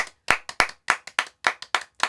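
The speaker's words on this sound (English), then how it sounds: "This isn't a satirical clap." One person claps hands in an irregular rhythm, about nine sharp, close claps over two seconds, with no voices.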